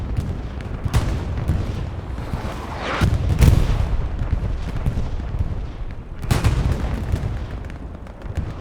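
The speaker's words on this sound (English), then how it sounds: "And those random rockets." Rocket explosions in a multiplayer battle video game, a dense, continuous rumble of booms and blasts with louder bursts around the third and sixth seconds and no pause in between.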